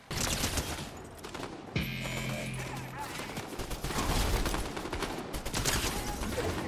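Fortnite gunfire rattles in dense rapid volleys nearly throughout, loud and close, with a brief shift in the game sound partway through.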